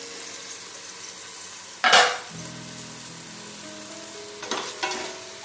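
Tomatoes cooking in a pan for a dal wheat breakfast dish give a steady sizzle, broken by one sharp utensil clatter near the middle and a few lighter clinks of a pan or spoon toward the end.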